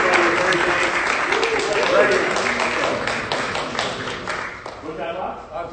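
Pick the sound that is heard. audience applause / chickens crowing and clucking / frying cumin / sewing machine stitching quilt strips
audience applause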